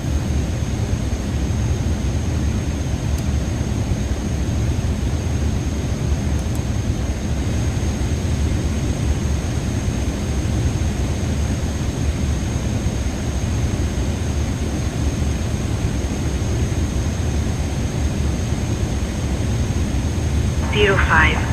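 A steady, loud roar of an airliner cruising before descent in Microsoft Flight Simulator 2024 fills the whole stretch, a dense unchanging drone with a faint high whine and a brief rustle near the end.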